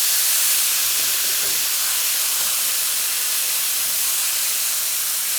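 Onions and garlic tossed into a hot pan just after browning eggplant give off a steady, loud broadband sizzling hiss that holds evenly from start to finish, with no voices.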